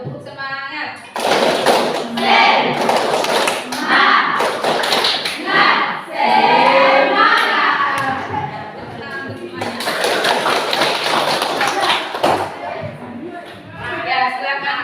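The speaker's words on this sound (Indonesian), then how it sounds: "Ya, tepuk semangat." A standing group in a classroom morning session beats out a rhythmic spirit clap, tepuk semangat, as sharp patterned claps that mingle with children's voices and a teacher talking.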